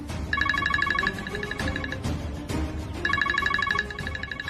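A phone ringtone plays in two bursts of bright repeating electronic tones, with a brief gap between them and some background rustle.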